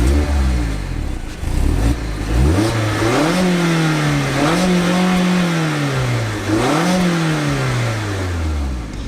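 A Mazda MX-5 Miata ND with a 2-liter Skyactiv-G four-cylinder engine accelerates hard, its loud engine note rising steadily through several gears with brief dips at each shift.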